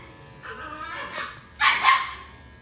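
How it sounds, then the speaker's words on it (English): Schnauzer puppies bark and yip indoors during their first haircut, with a couple of short high barks and yaps, the second burst louder, close by over a quiet background. "That's actually Ginger's puppies."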